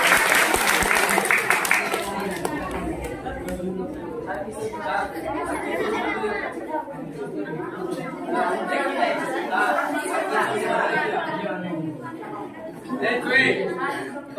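An audience at a magic show claps loudly for a couple of seconds, then the applause gives way to steady crowd chatter and voices that continue to the end.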